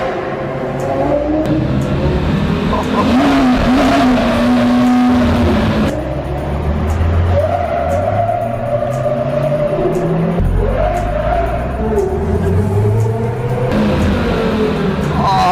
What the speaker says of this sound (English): What an animal this car is. Sliding all over the place.